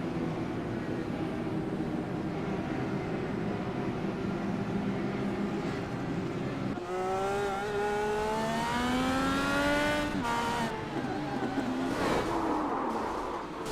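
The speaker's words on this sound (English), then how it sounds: "we'll have a look at an onboard, see what it was like from Oscar Hardwick's car" Onboard a DW-12 IndyCar at Indianapolis Motor Speedway, the engine drones low at first, then revs up sharply through rising gear pulls with a loud whine, easing and picking up again in stop-start running.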